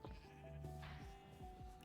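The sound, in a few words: sheep bleating in TerraFirmaCraft video game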